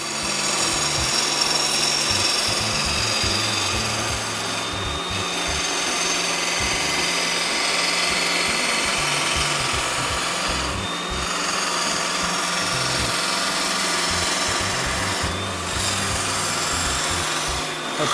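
A Revolution XT stone sawing machine with a double-sided blade cutting, a steady, dense grinding rasp that holds at a loud level throughout with only brief dips, close and with no voices.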